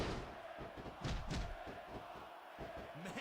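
A wrestling crowd in a PlayStation 2 wrestling game roars steadily, with rising swells of cheering and scattered thuds from the ring running through it.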